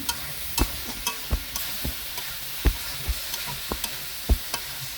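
Cut brinjal frying in spiced oil, stirred with a utensil that makes regular sharp taps against the pan over a steady sizzle, close and clear with no talking.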